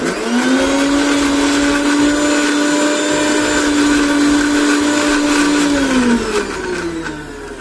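A kitchen mixer grinder runs hard on hair pack ingredients, a loud steady whining motor drone that holds for several seconds before winding down near the end.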